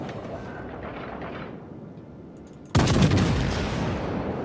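Naval guns of a warship in the World of Warships game fire in one sudden loud broadside blast, its roar rolling on and fading slowly over a steady background of engine and sea rumble.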